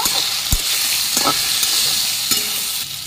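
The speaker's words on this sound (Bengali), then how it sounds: "এবার ভালো করে নেড়ে নেব" Okra fries in a pan with turmeric, salt and slit green chillies, giving a loud, continuous sizzle close by, while a few sharp spatula knocks and scrapes come through during brief stirring.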